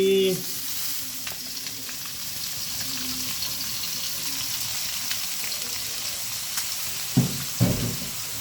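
Rice vermicelli noodles frying in a hot pan give a steady, close hiss of sizzling oil throughout, with a few stirring scrapes and knocks near the end.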